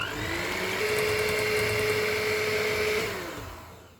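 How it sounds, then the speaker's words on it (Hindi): An electric beater whirs steadily through butter and eggs for a cake batter, holding a constant motor whine for about three seconds before spinning down and fading out. "अब हम अंडे डालते जाएंगे और इनको बीट करते जाएंगे।"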